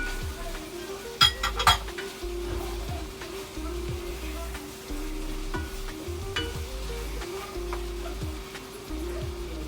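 Carrots and potatoes go into a pot of sizzling chicken afritada. Frying hiss runs under metallic clinks and thuds from the pot and utensils, with a brief clatter near the start.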